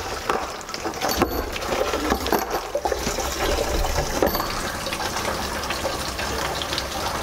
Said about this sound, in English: And you're gonna put, again, another gallon of water in here.